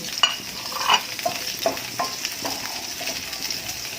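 Garlic and onion sizzle and crackle in a frying pan with occasional stirring clatter, steady and close.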